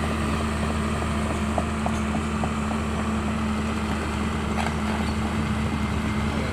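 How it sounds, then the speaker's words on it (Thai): A six-wheel truck driven at a rural worksite, its engine giving a steady low drone with a constant hum throughout and no voices. "หกล้อที่ผมขับอยู่นะ"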